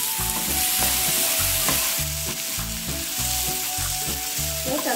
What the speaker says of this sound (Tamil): கத்திரிக்காயை 2 நிமிஷம் வதக்கியாச்சு.